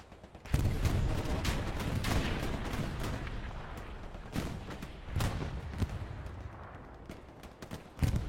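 Artillery shells exploding in the World War II shooter Hell Let Loose, with a series of heavy booms and sharp gunfire cracks in a battle, dense and loud at first, then scattered blasts continuing with no talking.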